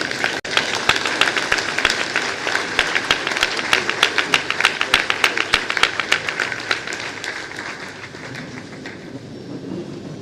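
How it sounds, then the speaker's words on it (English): Applause rings out at an accounting institute's induction ceremony for new members, a loud sustained clapping crowd with many sharp individual claps that fade and thin after several seconds. "please stand up and give him a big round of applause"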